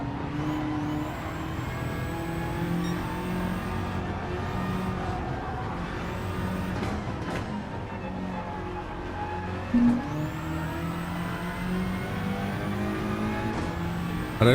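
Race car engines in a Gr4 racing video game, a sustained high whine that shifts up and down in pitch as the cars accelerate and change gear, with occasional tire squeal.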